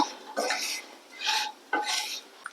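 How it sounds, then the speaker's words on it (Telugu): A spoon mixes chili powder into a potato fry in a pan, making three or four distinct scraping strokes at close range with short quieter pauses between them. "ఈ కారం అంతా ఫ్రైలో కలిసే వరకు కలుపుకోవాలి"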